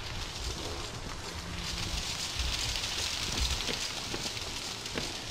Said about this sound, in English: Oh, it's raining, man.